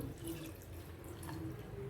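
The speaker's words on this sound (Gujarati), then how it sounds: "તેમાં આપણે 1 ગ્લાસ પાણી એડ કરીશું।" A faint, quiet trickle of water, about a glass, pours into a cooking pot, running and splashing softly for a couple of seconds.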